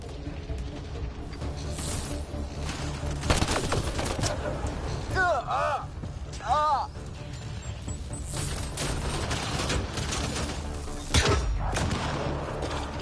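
Gunfire in the video game Mass Effect: scattered bursts and impacts in a busy firefight, with a voice cutting in briefly amid the shooting.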